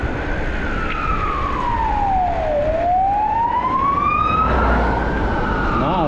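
A police car siren wails past on a street, loud and near, its tone sweeping slowly down and then back up in a long cycle over constant traffic noise, with no voices.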